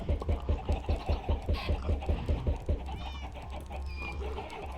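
Chickens in the video game Minecraft cluck in a quick, evenly spaced run of short sounds, then fall into softer, scattered calls over a quieter background.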